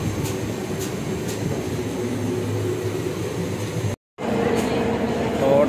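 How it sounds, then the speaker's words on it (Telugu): A first class AC passenger train on the way to Vijayawada rumbles steadily from inside the carriage, a low continuous drone with a brief cut and then resumes. "టోటల్గా అయితే నేను వచ్చిన ట్రైన్ ఇదే"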